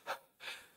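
A voice imitates breathless panting with two quick, quiet, airy breaths, the second longer than the first, and no words.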